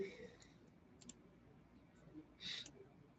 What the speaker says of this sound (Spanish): Dale un clic en una celda vacía.